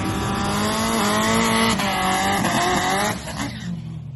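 A race car engine roars loudly and steadily during a grudge drag race against an Evo, with the revving pitch climbing through the run before it drops off sharply near the end.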